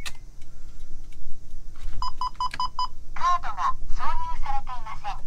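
Warning beep from a Suzuki Every Turbo van (DA52V) with accessories switched on, sounding as a series of short evenly spaced electronic tones followed by longer chirping beeps, close and clear over a low background hum.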